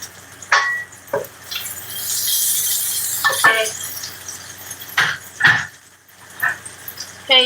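A spoon scrapes along the side of a hot pan of shrimp fried rice in short, close, gritty strokes, several in a row, with a faint sizzle in the gaps.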